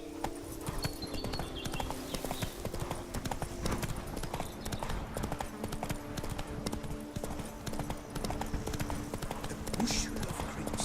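Roach gallops hard in The Witcher 3, a dense, rapid drumming of hooves that runs nonstop at full volume over a busy game soundscape.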